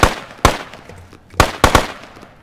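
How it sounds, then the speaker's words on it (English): Gunfire in the Squad video game: several sharp, loud reports crack out irregularly, a lone shot, then a close pair, each snapping hard with a short echoing tail. "we could be shooting away all day"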